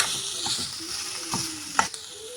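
Coconut vegetable poriyal sizzles in a pan in a home kitchen, with steady frying hiss close by while a spoon stirs. A few scraping strokes and light metallic knocks sound near the end.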